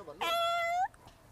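A voice imitates a cat with a single drawn-out, nasal meow that rises and then bends down, brief and close.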